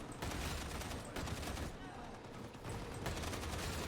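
Rapid gunfire from computer-controlled allies in the Darktide video game, dense sustained bursts filling the whole span with brief lulls, loud and close.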